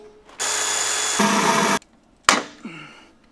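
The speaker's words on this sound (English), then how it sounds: "So I'm gonna rivet it on, which is gonna be just as good." A power tool fitted with a rivet setter drives rivets into a body panel on a BMW 328i F30: a loud, steady whirring burst of about a second and a half, a pause, then a short sharp snap followed by a fading whine.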